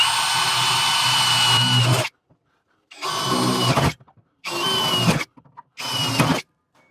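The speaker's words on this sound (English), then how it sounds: "I'm going to hop in there and drill those 4 holes." A power drill whirs loudly for about two seconds, then three more short bursts follow with brief pauses between them, close by, drilling holes for brakes on a 1941 Mercury.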